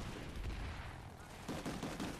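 Gunfire in the online shooter Planetside 2 comes as a quick rattle of shots in two bursts, fairly faint and muffled under the game's background noise.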